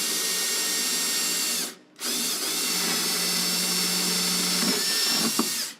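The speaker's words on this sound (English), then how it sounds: "let's drill a couple holes to start with." A power drill with a dull bit whirs steadily at close range, stopping briefly after a couple of seconds, then running again in one long burst.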